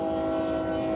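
A train rolls past close by, giving a loud, steady drone with strong horn-like tones that holds unbroken for the whole second, with no voices.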